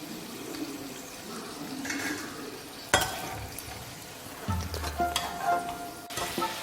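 Okra (ladies finger) sizzles in hot oil in a pan, a steady crackle beneath clattering and scraping as pieces are stirred and lifted out, with a few sharp knocks of a utensil.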